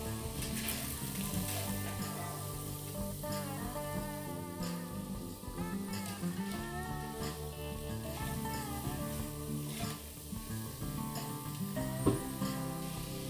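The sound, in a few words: sautéing spices with okra and potato in a pan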